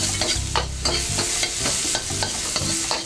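Hot chili peppers and chopped green onions sauté in a pan for General Tso's chicken, a steady close sizzle broken by repeated scraping stirs at a quick, uneven rhythm, with no voices.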